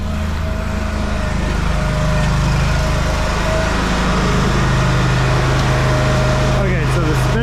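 Peterbilt snow plow truck with its spreader spinner switched on, giving a continuous steady engine and motor hum throughout, with a brief clatter near the end.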